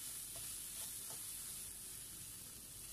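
Meat sizzling steadily in a hot pan while being fried for Thai red curry with beans, an even, close hiss with faint scraping stir sounds over it and no voices.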